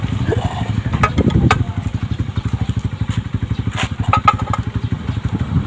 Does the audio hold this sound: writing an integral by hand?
no